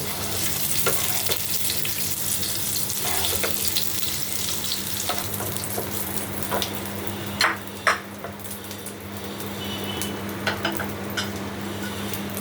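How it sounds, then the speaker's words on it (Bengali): Potatoes fry in hot oil until reddish-brown, giving a loud, constant sizzle with occasional sharp clinks of a utensil against the pan and no talking. "দেখুন আলুগুলো লাল লাল করে ভাজা হয়ে গেছে"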